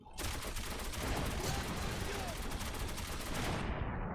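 Sustained gunfire from the Metro 2033 Redux video game, a dense, continuous burst of rapid shots filling the whole span loudly, with a voice speaking over it briefly.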